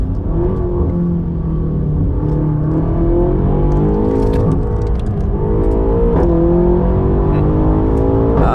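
BMW M8 Competition, tuned past 700 hp, pulls hard on the Nürburgring, its engine tone climbing steadily and dropping at several quick gear shifts, loud and close from inside the car with no talking.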